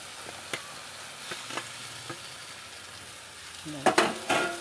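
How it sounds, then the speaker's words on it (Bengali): Chicken fries with spice paste in a pan: a soft steady sizzle broken by scraping stirs and a few louder clinks of the utensil near the end. "এখন চিকেনের সাথে আমি মশলাটাকে মিশিয়ে নেব"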